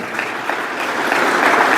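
Steady applause from an audience at a Hindi-language honour ceremony at a school event, dense clapping that holds even and grows slightly louder throughout.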